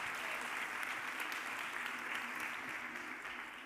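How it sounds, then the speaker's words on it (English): An audience at a conference session applauds volunteers called up to the stage, a broad wash of many hands clapping steadily, fairly distant and faint, easing slightly toward the end. "Please give our volunteers a round of applause."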